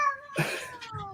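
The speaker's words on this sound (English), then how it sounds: "Is that a cat?" A cat lets out a short, drawn-out meow, close and moderately loud, with tonal wavering, in a brief moment without speech.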